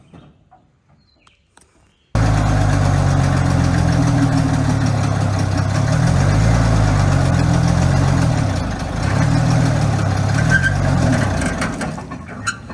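A 1950s Rolls-Royce engine cranked by its starter, turning over loudly in a steady rhythmic churn for about ten seconds after a quiet start, nearly catching but never firing.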